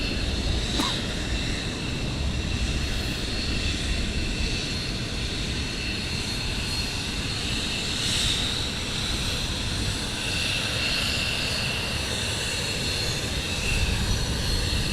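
Military jets launch during morning surge operations at RAF Lakenheath, heard as a steady distant engine roar that holds at an even level for the whole stretch, with no talking.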